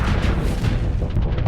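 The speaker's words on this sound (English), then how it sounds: "firing off my phase lances and tack cannons" Phase lances and tack cannons firing in the space game Starsector, a continuous barrage of booming energy and cannon shots with rumbling low end, loud and sustained throughout.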